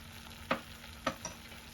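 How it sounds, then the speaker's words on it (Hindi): Ghee goes into rajma masala frying in a pan, giving a soft steady sizzle with two or three brief stirring scrapes; no talking. "अब मैं इसमें घी डाल दूंगी"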